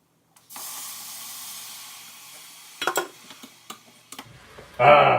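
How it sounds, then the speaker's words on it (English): White wine hits a hot pan of dairy-free mushroom risotto and gives off a sudden steady hiss that slowly fades, broken by a few clicks and knocks, before a louder burst of noise at the end. "That's when you want to add your 1 cup of white wine."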